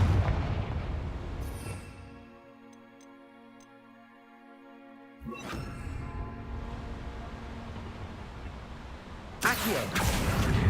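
A Confringo blasting spell goes off in the video game Hogwarts Legacy, a loud booming explosion with a sharp burst near the end, set amid dense game noise and a sustained humming stretch in the middle.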